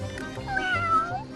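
A cat in a rural Korean countryside home gives one drawn-out, wavering meow, close and clear over a faint background hum.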